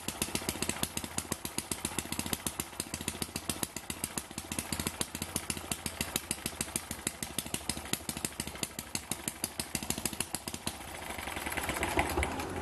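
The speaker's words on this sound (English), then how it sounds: "It actually sounds better with a straight out exhaust than that little muffler." An Eachine ET8 horizontal four-stroke model engine fitted with a straight exhaust runs steadily for the whole stretch. It gives a loud, rapid, even popping beat that rises a little near the end.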